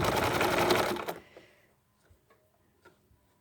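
A sewing machine stitches a coiled rope bowl wrapped with sari silk ribbon, running loud and steady for about a second before cutting off, followed by a few faint ticks and clicks from adjusting the work.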